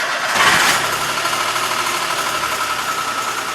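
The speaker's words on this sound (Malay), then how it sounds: "Selepas itu, bolehlah Anda menghidupkan enjin." A car engine is started during a Malaysian driving test, giving a brief cranking surge that settles into a steady, close, moderately loud idle.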